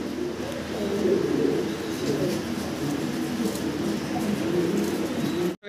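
A pair of black Roman pigeons give soft, repeated low cooing, close by and rising and falling in gentle rhythm over a steady background hum, with the coos continuing across the stretch.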